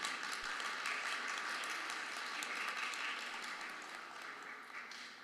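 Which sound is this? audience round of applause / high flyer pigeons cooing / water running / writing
audience round of applause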